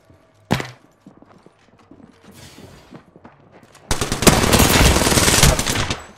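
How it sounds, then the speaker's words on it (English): Gunfire in Apex Legends: one sharp nearby shot, then scattered light clicks and footsteps, followed by a loud sustained burst of rapid automatic fire lasting a couple of seconds. "Getting shot at."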